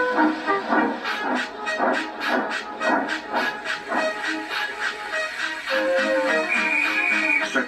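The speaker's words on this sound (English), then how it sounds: "with much noise and blowing of steam, got ready to back onto the train" A steam locomotive hisses and chuffs in a steady rhythmic pattern, loud and near, with a continuous hiss underneath.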